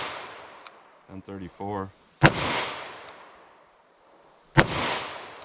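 Two sharp revolver shots of .38 Special +P Hornady handloads crack out a couple of seconds apart, each with a loud ringing outdoor echo, and someone speaks briefly before the first.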